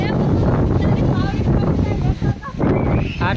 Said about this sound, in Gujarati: અને આટલો પવન ચડી ગયો